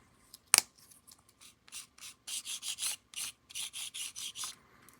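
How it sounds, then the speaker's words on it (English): Electrical wipers rub against the turning axles of a Bachmann Spectrum DASH 8-40CW model locomotive, making a close, faint, rhythmic scraping in regular bursts after a single sharp click. "Electrical wipers make a little noise."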